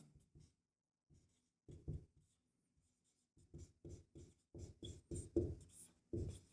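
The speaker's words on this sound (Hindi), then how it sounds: "तो यहाँ लिख देंगे" A pen writes on paper while a math problem is worked out, with faint, close scratches and taps that come in short bursts, first sparse and then in a quicker run of strokes. No one speaks.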